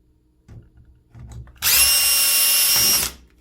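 A power screwdriver whirs for about a second and a half, loud and close, as it backs long Phillips screws out of a Moen shower escutcheon, preceded by a few soft handling bumps.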